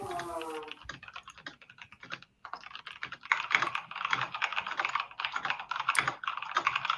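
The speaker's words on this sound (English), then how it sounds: "When the typing stops, the sprint is over." Rapid typing on a computer keyboard during a timed writing sprint, a steady close stream of uneven key clicks that runs almost the whole time, with a brief pause near the middle.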